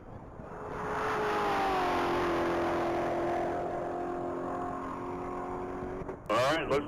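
A 2016 Chevrolet Corvette Z06 on a standing-mile top speed run at a racing event, its engine note rising and then holding a loud, sustained high-speed roar before cutting off, with a voice talking near the end.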